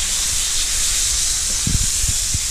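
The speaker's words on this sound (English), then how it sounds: "You see that blood coming out of there, starting to boil out of there?" Burger juices boil and sizzle in a hot pan as a steady hiss, with a few soft low pops and bubbles near the end.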